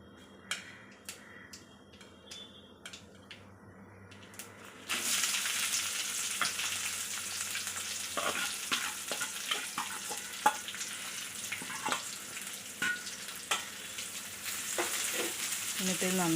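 Dried chillies, shallots and garlic fry in a pan for Kerala-style rasam, giving a steady loud sizzle that starts abruptly partway through, broken by repeated scraping and clicking stirs, with scattered taps beforehand.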